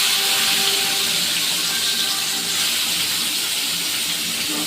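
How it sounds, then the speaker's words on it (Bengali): Bitter gourd (uchhe) frying in hot oil with dried chilli and black cumin, giving a steady, even hiss that holds at a constant level throughout, close and unbroken, with no talking. "এবার আমি দিয়ে দিচ্ছি উচ্ছে ভাজা।"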